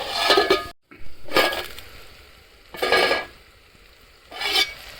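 A pot of broad bean curry being covered, with several short clattering bursts of cookware handling, close and fairly loud, separated by quiet kitchen gaps.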